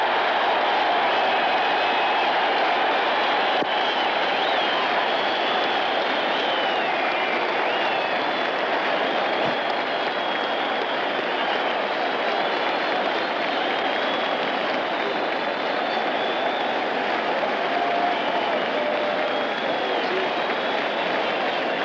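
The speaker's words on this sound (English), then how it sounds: "listen to the crowd." A large boxing crowd in New York in 1965 roars continuously in a steady, loud wash of cheering and murmuring, with faint voices blended into the din.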